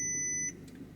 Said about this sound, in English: Your car will start making all sorts of funny beeps and blops as well